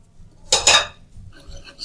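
A spoon clinks and scrapes twice against a bowl while semolina batter with chopped coriander is mixed, two quick close strokes followed by faint soft stirring.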